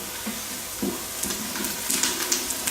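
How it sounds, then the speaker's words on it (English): Onions frying in a pan for a pasta sauce, giving a steady crackling sizzle with brief sharper pops throughout, close and moderately loud with no voices. "they're making lots of satisfying sizzling noises"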